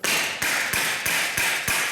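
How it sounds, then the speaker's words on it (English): Hammer tapping over staple ends poking through a wooden folding garden trellis, five sharp, evenly spaced metallic strikes close up over steady background hiss. "So you could either just take your hammer"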